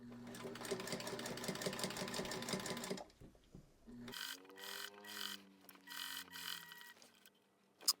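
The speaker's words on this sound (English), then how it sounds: "But this is a very nice sewing machine, nice and quiet, nice and smooth." A vintage Singer Featherweight sewing machine runs steadily with a dense rhythmic whir for a few seconds, pauses, then starts again in short bursts with a hum underneath.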